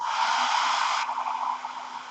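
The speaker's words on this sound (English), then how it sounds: "Use my dryer a little." A hair dryer blows on fresh paint on a Miniart 1:35 Bergepanzer T-60 interior model kit, giving a loud, steady close-up whoosh that drops slightly in level partway through and continues with no talking.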